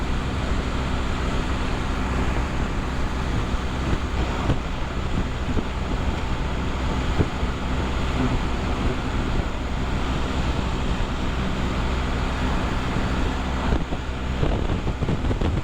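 Strong crosswind gusts buffet a vehicle on a highway, heard as continuous heavy wind rush and roaring road noise from inside the cab.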